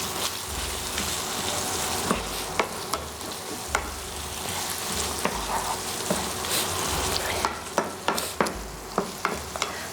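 Egg yolk being stirred into filo pastry for a quick homemade pie: a continuous close scraping and rustling of the mixing, with scattered sharp taps and clicks that grow more frequent toward the end.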